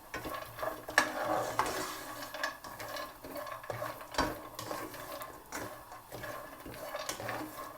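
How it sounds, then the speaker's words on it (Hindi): Nuts roasting in ghee in a kadhai, a faint, soft sizzle with scraping and stirring of a spoon against the metal pan, intermittent clinks over a low steady frying hiss. "इसमें हम नट्स को रोस्ट कर लेंगे"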